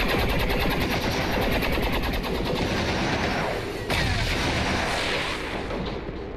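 Heavy sustained automatic gunfire from the game XCOM 2, a dense rattling barrage with a sharp blast midway, loud throughout and without talking.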